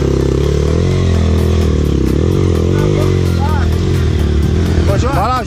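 A motorcycle engine drones loudly and steadily on a dirt trail, pitch rising and falling as it revs, with shouting voices over it near the end.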